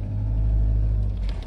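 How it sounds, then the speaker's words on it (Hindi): A car drives on a narrow mountain road beside a crumbling hillside, its engine giving a close, steady low rumble with no talking. "गाड़ी भी लेफ्ट राइट में भाग रही है"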